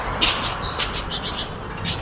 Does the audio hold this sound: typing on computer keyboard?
no